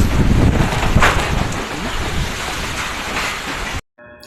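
Strong typhoon wind roars loudly and steadily against the microphone, a dense continuous rush with gusty surges, before cutting off abruptly near the end.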